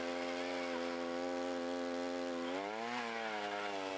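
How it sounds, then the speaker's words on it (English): A gas-powered ice auger drilling holes through lake ice beside a Sno Bear, a loud, steady engine drone that drops in pitch briefly as it bites in, heard close and continuous. "drill the holes with the ice auger"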